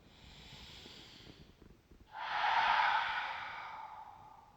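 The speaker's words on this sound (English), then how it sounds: "Full breath in." A single slow, deep breath in during a vinyasa yoga practice, heard as a close, airy inhale that swells and then fades over about two seconds after a quieter, steady breath.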